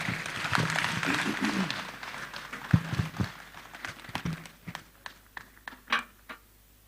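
An audience at a dialogue lecture claps for the keynote speaker. Dense applause fills the first few seconds, then thins into scattered, separate claps and taps before fading out, with some voices mixed in.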